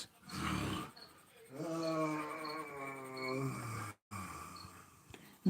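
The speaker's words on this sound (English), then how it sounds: "I do apologize if you hear snoring in the background." Deep, drawn-out snoring rumbles in the background of a quiet home, with a few long, droning breaths separated by short pauses.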